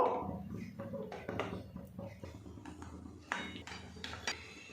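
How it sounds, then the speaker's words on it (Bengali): Small bowls of gram flour batter are set into a pan of boiling water, giving a series of close clinks and knocks of bowl against metal, with brief clatter between. "এবার এই বাটিগুলো আমি এর মধ্যে বসিয়ে দেব।"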